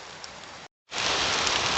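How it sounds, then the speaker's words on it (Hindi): Heavy rain pours steadily on a Himalayan mountain trek near Pindari Glacier, a dense close hiss that cuts out briefly and then returns louder, with no talking. "तेज़ बारिश होने लगी है जोरों की।"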